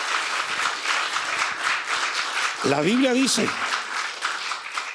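A church congregation applauds during a Sunday sermon, steady crowd clapping throughout, with a voice briefly speaking over it midway.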